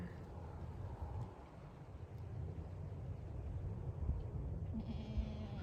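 Small Kiko goats bleat a few times against a steady low rumble of outdoor background noise, the calls fairly faint and brief.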